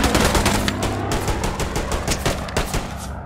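Rapid bursts of gunfire from the Hell Let Loose video game, loud and close, with dense overlapping shots rattling out in quick irregular succession for the whole few seconds.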